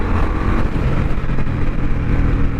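An Indian Scout motorcycle engine held high in gear, a loud, close, continuous throaty drone with slight pulsing, steady throughout, no talking.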